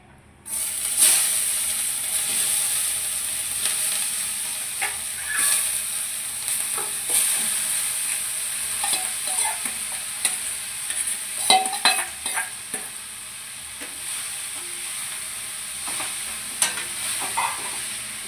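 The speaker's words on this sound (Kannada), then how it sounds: "ಈಗ ಚೆನ್ನಾಗಿ ತುಪ್ಪದಲ್ಲಿ ಮಿಕ್ಸ್ ಮಾಡ್ಕೊಳ್ಳೋಣ." Roasted carrots and cashews are stirred in ghee in a pan for carrot halwa, giving a steady soft sizzle with irregular scraping and clinking strokes of the spoon, close and fairly quiet.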